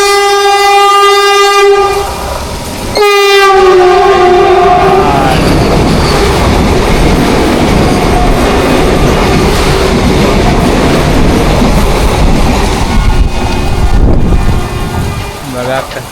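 Jamnagar-Tirunelveli Express racing at speed on Konkan Railway, a long loud horn blast at first, then a steady roaring rush of wheels and wind with clattering, very close and continuous.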